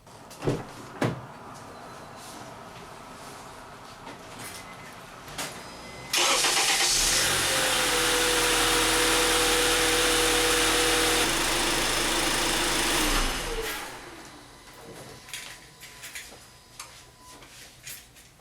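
Honda Accord 2.4L engine with automatic transmission running loud and steady for several seconds, framed by quieter clicks and handling noises before and after, with no talk.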